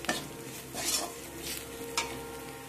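Turmeric, chili and cumin powder frying in a pan, with a spatula stirring and scraping in repeated strokes over a low sizzle, close and clear with no talking.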